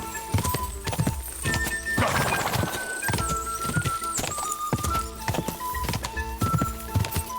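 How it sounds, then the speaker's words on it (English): Several horses gallop in a race in the medieval role-playing game Kingdom Come: Deliverance II, with loud, rapid clip-clop hoofbeats and occasional neighs running steadily throughout. "Damn, everyone's horse is faster than mine"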